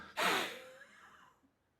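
A single forceful breath exhaled through the nose during a yoga breathing cycle, a sharp close rush of air that tapers off over about a second into silence.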